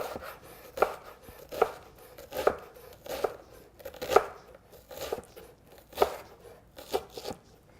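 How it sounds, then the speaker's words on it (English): Knife dicing an onion on a cutting board, about ten crisp, evenly spaced chops close up with quiet pauses between them and no talking. "Turn the onion around, go in like that, and then cut the onion"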